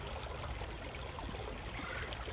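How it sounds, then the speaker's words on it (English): Water flows steadily in a gentle, continuous stream at low volume, with no voices. "you can come back to the sounds of the water"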